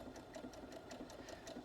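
A Brother Innov-is NS80e sewing machine stitches fabric in a fast, even run of rapid mechanical ticks, close and steady over a soft motor whir.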